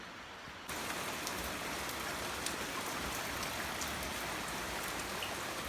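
Rain pours down outside a house in a steady, even hiss that swells up abruptly after a brief quieter moment and then holds constant with no voices.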